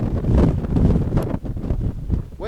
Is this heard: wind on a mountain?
yes